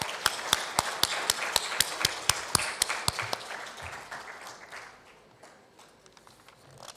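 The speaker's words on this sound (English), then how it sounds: "Let's have a round of applause for every one of those." An award announcement audience claps at a conference, with sharp, evenly spaced claps over a bed of scattered applause that gradually thins out and fades over several seconds.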